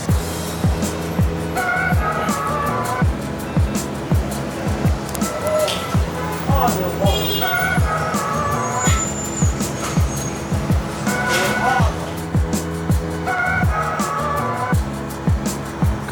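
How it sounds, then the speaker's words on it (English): Cars pass one after another along a city street near Guangzhou's European-style bund, tire and engine noise swelling and fading in a steady rhythm over street ambience. "Cars."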